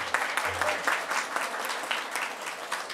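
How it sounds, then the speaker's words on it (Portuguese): An audience at a special session on rural land conflicts in Brazil applauds a woman representing the Comissão Pastoral da Terra, with moderately quiet, uneven clapping that pulses with distinct claps in a large room. "Vamos aplaudir a companheira."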